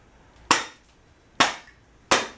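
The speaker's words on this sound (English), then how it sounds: "you smack the top of the bottle" A hand smacks the top of a glass bottle three times, each strike a sharp, close pop that decays quickly, spaced under a second apart with no talk.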